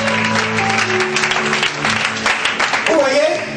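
A church congregation breaks into sustained applause, a dense wash of clapping that fills the room while a voice keeps speaking over it and others call out.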